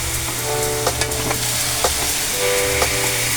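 Chicken pastil with dried fish and vinegar being stirred in a hot pan, a steady sizzle with repeated scraping clinks of the spoon against the metal, close up, with no talking.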